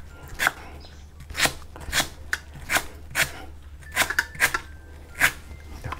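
A knife chops spring onions on a board while making Thai chicken curry with banana stem, in about a dozen sharp, fast, close taps at an irregular rhythm with no talking over them.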